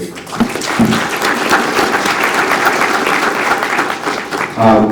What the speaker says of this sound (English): give yourselves a round of applause for just being here and for all the work that you've all put in